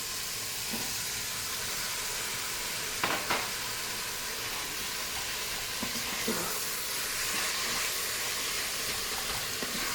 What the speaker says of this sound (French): À présent, je rajoute mes pois chiches.